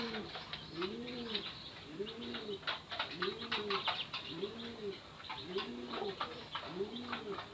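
Pigeons coo in a steady, repeating rhythm around watering time, each soft rolling call about a second apart, close by, with light rustling and faint wing flutters in between.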